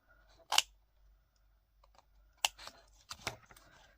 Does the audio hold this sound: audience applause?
no